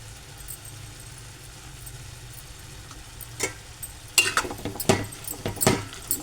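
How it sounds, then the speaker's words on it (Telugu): Chili powder being stirred into a simmering prawn curry: soft, steady cooking noise, then from midway a run of scraping, clinking spoon strokes against the pot, close and moderately loud. "కారం వేసాం కాబట్టి కలుపుకుందాము."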